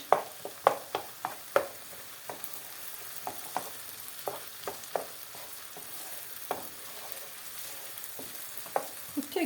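Tomato paste frying in a pan for shepherd's bulgur pilaf produces a soft, steady sizzle punctuated by repeated sharp spoon taps and scrapes, close up and without voices.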